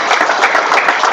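Dense audience clapping fills a short burst at a real estate training course session, loud and close with rapid overlapping claps and no talk over it.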